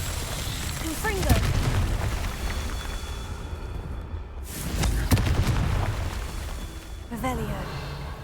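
Confringo fire spell in Hogwarts Legacy, three booming fiery blasts spaced a few seconds apart, each a sharp burst with a rumbling tail, over a low game soundscape.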